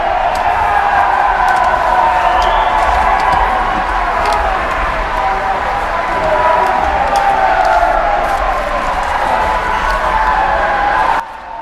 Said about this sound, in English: We would have to clear the gallery if clapping continues.